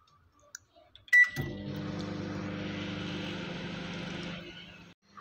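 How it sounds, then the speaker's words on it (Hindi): A microwave oven running on high power while roasting raw peanuts in their shells, giving a steady, even hum with a faint rattle that starts after a sharp beep and runs unbroken for about three seconds before cutting off. "अब हम मैक्रो का बटन दबा के हाई पावर के लिए इसे 4 मिनट के लिए लगा लेंगे।"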